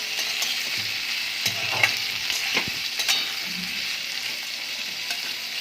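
Pumpkin with spices frying in a pan for a jackfruit-seed curry, stirred with a spoon: a steady close sizzle broken by several sharp scraping strokes, no voices.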